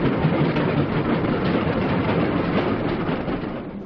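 Train carriage carrying sailors on leave, rolling along the rails with a steady, dense rumble and faint rhythmic clatter that continues unbroken for the whole stretch, close and fairly loud with no voices over it.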